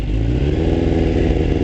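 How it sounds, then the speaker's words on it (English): A Suzuki Katana motorcycle fitted with a D&D exhaust rumbles loudly and close up, a steady deep engine note with a rough clattering texture and no talk over it. "let's turn this on, and I'll let you hear the D&D exhaust over there"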